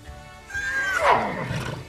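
A horse whinnies once in the life-simulation game The Sims 3, a short rising then falling neigh at moderate loudness over soft background game sound.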